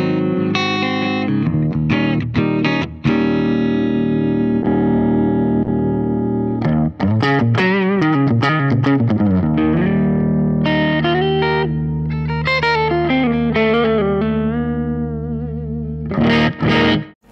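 Electric guitar plays through a Fender Mustang Micro mini amp, loud chords and single-note runs with effects, distortion and chorus tones, strummed and picked phrases changing across the passage, played alone without talking.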